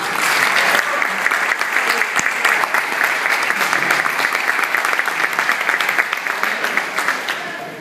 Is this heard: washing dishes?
no